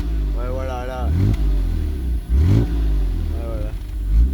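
Mercedes W124 300 TE engine held around 2000 rpm, a low rumbling idle-to-rev drone with small rises, heard close under ongoing conversation in French.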